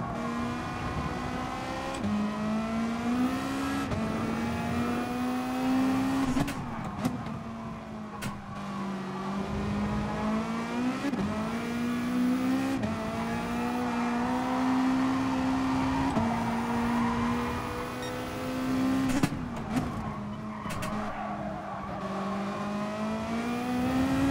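A race car engine in Gran Turismo Sport drones steadily at high revs, with repeated short drops and climbs as gears shift and the car brakes and accelerates. The note stays loud and close, with no talking.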